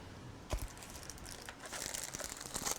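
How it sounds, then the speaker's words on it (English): Scissors cutting a transparency sheet, quiet crinkly plastic rustling with a sharper snip near the start and a run of faint crackling cuts and handling noise afterward. "Okay, so I need to cut my transparency."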